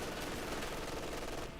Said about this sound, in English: MG42 inside that bunker from the AI